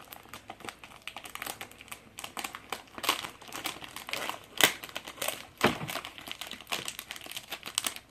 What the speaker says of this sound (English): You'll take 1 strip of tape, slightly longer than that, and you'll just go ahead and seal that up.